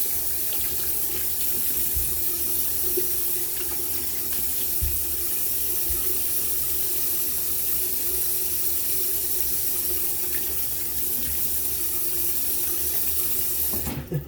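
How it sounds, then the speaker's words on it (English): Tap water runs steadily into a sink while shaving soap is rinsed off, an even rushing splash that continues unbroken and close for the whole stretch, with no voices. "Took me a little bit to rinse off all the soap."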